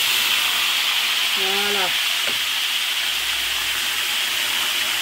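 Tilapia sizzles in a frying pan after being flipped, a steady close hiss of frying throughout, with a brief spoken word partway through.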